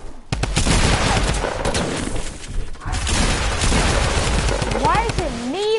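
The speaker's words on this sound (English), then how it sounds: "I just got shot at." Rapid bursts of video-game gunfire from Fortnite rattle almost continuously, loud and close, with brief breaks and a few rising whistling tones near the end.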